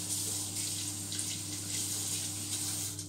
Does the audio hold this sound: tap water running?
yes